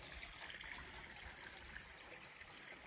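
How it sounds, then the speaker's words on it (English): A garden water feature at a country house bubbles and trickles steadily, faint and continuous with no voices. "You can hear the water feature just bubbling away."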